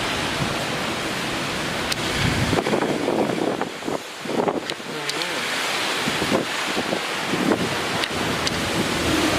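Strong Typhoon Hagibis wind in Kawagoe, Japan, roars as a loud, steady broadband rush with surging gusts and a brief lull midway. No talk is heard.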